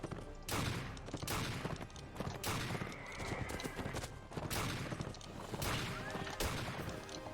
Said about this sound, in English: try and shoot as many buffalo as I can before they escape